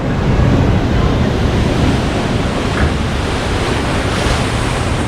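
Ocean waves splash on the shore at Cabo by the Sea of Cortez in a steady, loud wash of surf mixed with wind noise, with no pauses.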